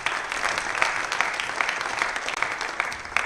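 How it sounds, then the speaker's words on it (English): Steady applause from a crowd at a squash coaching event, dense clapping that carries on evenly throughout with no voices standing out. "So big round of applause to her,"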